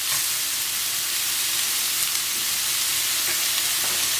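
Oil sizzles loudly in a pan over a medium flame while Goan meatball curry is being cooked, a dense, continuous hiss with light stirring textures and no speech.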